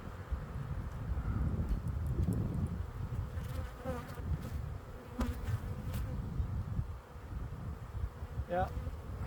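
Honey bees swarm and buzz steadily around a walk-away hive split outdoors, a dense, continuous insect drone mixed with gusty wind rumble, with no one speaking.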